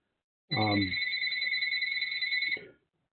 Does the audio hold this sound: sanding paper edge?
no